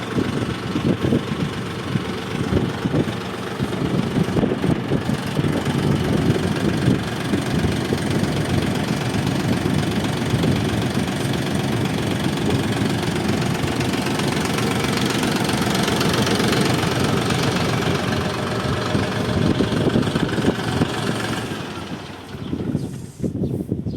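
A DTZ 354U tractor engine runs steadily for a long stretch, a loud, close diesel rumble with a knocking idle, then cuts out near the end as it is shut off.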